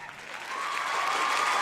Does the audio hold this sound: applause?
yes